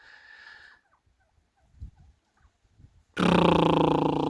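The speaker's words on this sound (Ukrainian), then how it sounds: "Ось іде орловський півник" An Orlov rooster lets out a loud, close crow that starts abruptly after quieter clucking and scattered soft scuffling sounds.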